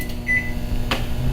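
A microwave oven runs while cooking a vanilla mug cake topped with a napkin: a steady low hum with a brief tone and a soft click, heard alone.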